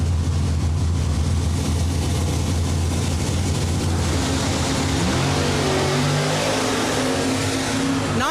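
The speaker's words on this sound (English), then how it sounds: "Nice wheels up start for both drivers there." Old school bracket drag racing, an F-body Trans Am among the cars: loud sustained engine roar at the start line, rising in pitch as the cars accelerate away, continuous and fairly close.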